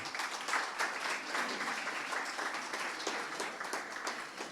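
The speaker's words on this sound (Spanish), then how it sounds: "Un aplauso para ella." Steady applause from a crowd, sustained clapping with no talking, filling the whole stretch at an even moderate level.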